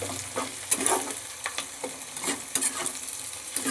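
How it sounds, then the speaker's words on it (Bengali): Cashew nuts and raisins frying in a pan of oil, a close crackling sizzle broken by quick rhythmic stirring scrapes and clinks, with no voices. "কিছু কাজু বাদাম দিয়ে দিলাম, কিছু কিশমিশ দিয়ে দিলাম। এইবার আমি এগুলোকে একটু ভেজে নিই।"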